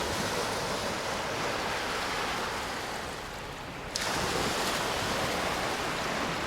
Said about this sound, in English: waves breaking over the reef there